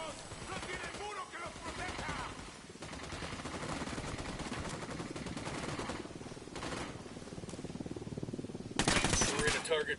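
Bursts of rapid automatic gunfire and explosions from a PS4 military shooter game, with dense crackling volleys throughout and a louder blast near the end, mixed with radio-style chatter.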